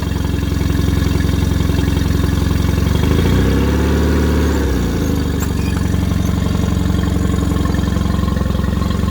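A Mercury 20 HP outboard engine idles steadily at close range, with a brief dip and change in tone midway, as if shifted into gear, before settling back into an even running drone.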